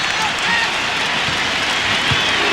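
A college basketball arena crowd at a Kentucky vs Indiana game roars in a dense, continuous wash of cheering and noise that fills the space without pause, with a commentator faintly heard.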